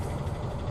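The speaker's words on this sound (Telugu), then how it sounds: "ఆ ఆటో చేస్తున్న ఇంజన్ సౌండ్కి" A steady, low rumbling auto rickshaw engine close by, a continuous motor drone with no voices.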